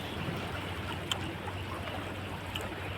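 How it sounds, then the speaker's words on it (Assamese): River water flowing close by in Kharsang, Arunachal Pradesh, a steady broadband rush and trickle that stays even throughout, with one brief sharp tick near the middle and no voices. "ওচৰতে নদী এখন আছে"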